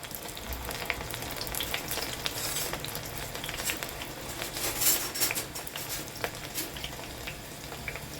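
Sliced onion fries in oil while being stirred, a continuous close sizzle with frequent scraping and light utensil clicks throughout.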